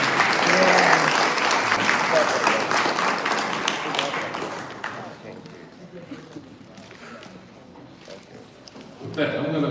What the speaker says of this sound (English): one more time, we get a round of applause for our new officers in the village of Dolton